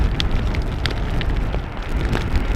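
Steady rain falls close to a microphone at Amsterdam Schiphol Airport on a Monday morning. A dense, even patter with scattered sharper drops goes on without pause.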